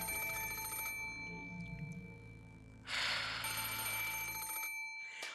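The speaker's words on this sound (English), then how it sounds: "the ring of the phone, which had sounded like a scream for help" A telephone rings in the visual novel game Umineko When They Cry, its electronic trill sounding in bursts over an eerie sustained musical drone, loud and close, with no speech.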